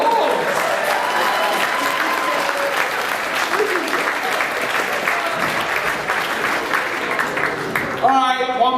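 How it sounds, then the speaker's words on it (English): Convention crowd applauds Malcolm McDowell at a horror fan gathering, a dense steady wash of clapping that fills the room, with some voices mixed in and a brief clatter near the end. "Give him a round of applause."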